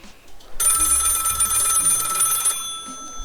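An electronic telephone bell rings loudly and steadily for about two seconds in the video game Lil Guardsman, then cuts off, with faint background sound around it.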